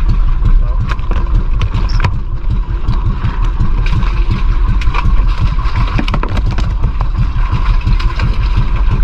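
A fishing boat engine runs steadily and close, a low continuous drone with a rhythmic chugging pulse, with voices talking at moments over it.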